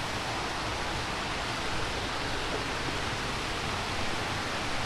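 Constant broadband rush of flowing spring water in a forest, steady and fairly loud throughout with no pauses or voices.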